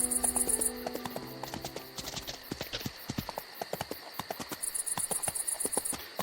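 Horse hooves clip-clopping in a steady rhythm on a night ride in a horse-riding video game, with crickets chirping behind and a brief tonal chime at the start and end.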